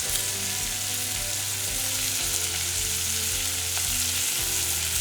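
Shallots, curry leaves and coriander stems fry together in oil for a tomato egg gravy, giving a dense, constant sizzle with light stirring, close up and unbroken, with no talking over it.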